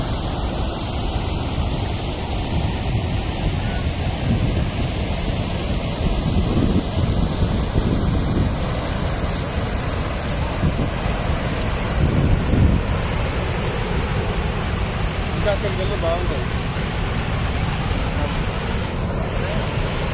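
Water of Mirzampet creek pours over a check dam near Vavilala village, a loud, steady rushing roar that fills the whole span without letup, heard close with some wind buffeting and no talking.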